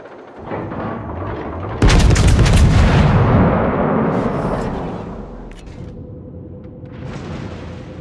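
Battleship main guns fire in a naval video game: one loud, heavy salvo booms in after a low background hum, then rolls off into a long rumbling decay, with a few fainter shots and ambient noise near the end.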